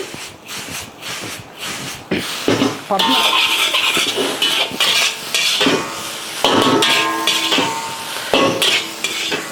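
Egg noodles are tossed and mixed in a pan for street-cart-style double egg noodles, with repeated metallic clanks and scrapes of a utensil over a light sizzle, loud and close.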